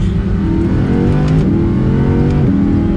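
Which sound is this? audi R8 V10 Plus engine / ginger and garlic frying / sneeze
audi R8 V10 Plus engine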